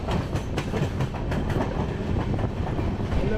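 The Sampoorn Kranti Express rolls along at speed, heard from on board, with a steady loud roar and repeated clickety-clack of wheels over rail joints, no voices.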